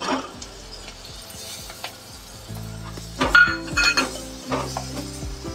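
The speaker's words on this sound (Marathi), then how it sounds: "टमाटा पण घालून घेते" Metal utensils clink and tap against a pan as tomato goes in, a run of sharp close clinks and scrapes over a low background hum, with a few louder knocks toward the end.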